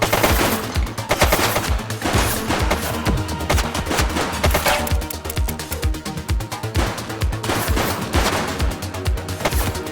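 Sustained gunfire in the video game The Precinct comes as loud rapid automatic bursts and single shots, rattling almost without pause over a low humming background.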